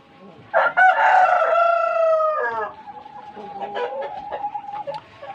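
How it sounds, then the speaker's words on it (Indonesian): A Bangkok rooster crows loudly and close by in one long drawn-out call, followed by softer clucking and fowl chatter. "Ayam Bangkok."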